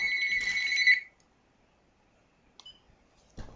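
A telephone rings once in a short electronic trill, fairly close, then cuts off into near silence broken by a couple of faint clicks and bumps.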